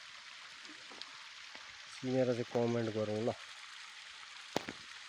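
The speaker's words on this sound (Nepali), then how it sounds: "यो झरना चाहिँ कहाँको हो चिनौँ ल" A waterfall pours a steady, even rush of water in the background, fairly faint, while someone talks briefly over it.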